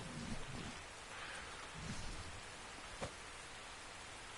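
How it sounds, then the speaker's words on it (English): Rain and thunder in the video game Ark Survival Ascended: a dense, steady downpour hisses throughout, with low rumbles and one sharp crack of thunder near the end. "Hello, rain."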